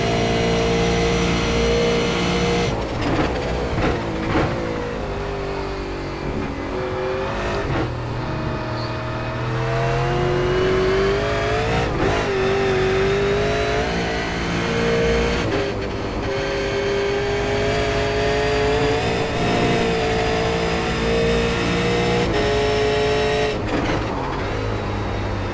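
A V8 race car engine in iRacing at Road Atlanta drones steadily and loud, rising and falling in pitch through gear shifts and revs across the whole lap section.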